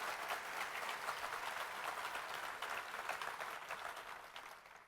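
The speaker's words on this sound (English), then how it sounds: "Let's give them another big round of applause" Sustained applause from a party convention audience at an awards event, dense and steady throughout, tapering slightly at the end, with no talking over it.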